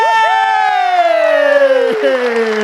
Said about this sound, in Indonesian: Tepuk tangan buat Mamat Al-Khatiri.